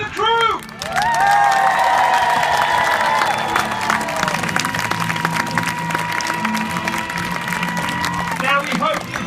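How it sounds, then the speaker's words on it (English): After a trebuchet show at Warwick Castle, a large outdoor crowd cheers, whistles and applauds loudly and continuously, with shouted voices rising above the sustained clapping. "So please, everyone, fill your lungs, give the biggest cheer you have ever given for our trebuchet master Charlotte and the crew!"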